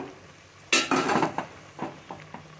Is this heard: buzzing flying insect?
no